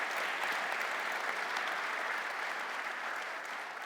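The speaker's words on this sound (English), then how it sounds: "I'd love to just give these guys a round of applause" Audience applause for a soccer summit panel, a dense, even roar of many hands clapping from a sizable crowd, steady and sustained throughout without letting up.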